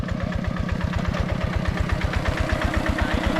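A field-plowing vehicle's engine runs close and loud with a steady, rapid, throbbing pulse and slight revving throughout, with no voices over it.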